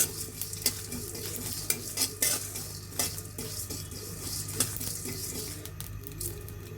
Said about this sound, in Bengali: আমরা সবগুলো মশলা একটু টেলে নিব জাস্ট একটু হালকা করে টেলে নিব যাতে সুন্দর ফ্লেভারটা আসে